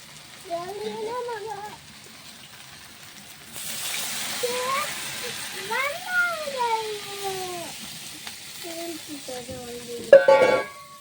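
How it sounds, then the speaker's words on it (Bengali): Water poured into soybean, potato and tomato frying in a pan sets off a sudden hissing sizzle that carries on steadily, while a cat meows repeatedly and loudly over it. "এখন আমি জল দিয়ে দিচ্ছি"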